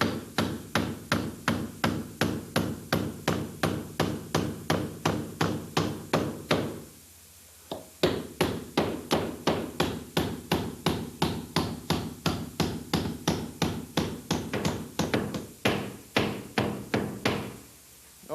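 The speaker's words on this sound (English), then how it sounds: "It's right on the blue line, so I can just start hammering it in place." Spikes are hammered into ceiling plates in a 1982 house renovation, loud close hammer blows repeating in a steady rhythm with one short pause partway through.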